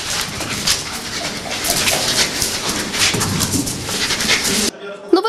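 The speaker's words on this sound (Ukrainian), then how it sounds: "кінолог привів собаку Фіону." A search and rescue dog panting rapidly and close, with some soft whimpers and faint birds behind, under a busy background that cuts off near the end.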